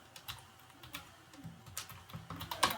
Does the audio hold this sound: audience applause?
no